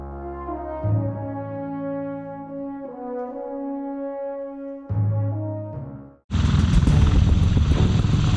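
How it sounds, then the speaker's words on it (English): A U.S. Marine Corps MV-22 Osprey tiltrotor aircraft flies with a loud, humming rotor drone that shifts in pitch, then gives way to a heavy, roaring wash of engine and rotor noise. "This is the MV-22 Osprey, flown by the United States Marine Corps."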